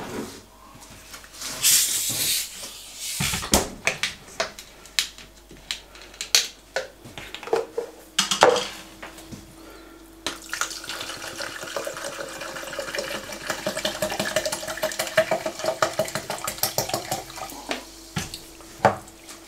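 Fizzy water pours into a plastic shaker bottle, splashing and hissing in an uneven stream with scattered clicks and handling knocks, then settling into a steady carbonated fizz.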